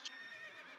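A horse whinnies in the World of Warcraft video game, a short, bright, moderately loud neigh heard alone.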